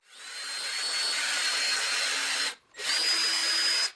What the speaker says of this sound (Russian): используя обычный шуруповерт и сверло диаметром 2 мм, я сверлю отверстия под направляющие штифты